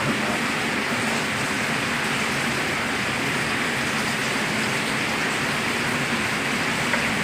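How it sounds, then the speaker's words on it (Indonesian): Steady rain falls across a dense, even hiss that holds the same loudness the whole way through, with no gaps and no voices heard. "Suara hujan nggak apa guys ya"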